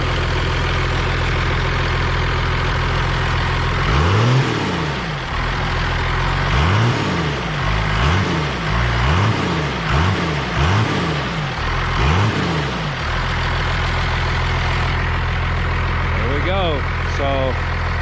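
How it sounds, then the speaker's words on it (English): An old survival truck engine that had sat almost three years cranks over several times in rhythmic turns, fires, and settles into a steady low idle, up close and loud. "So with a good battery, it fires right up."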